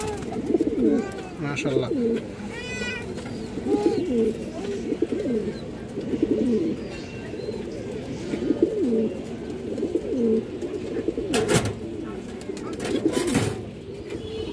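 Pigeons coo repeatedly in soft, rolling bursts, with close cooing from pet or loft birds throughout and a brief spoken word partway through.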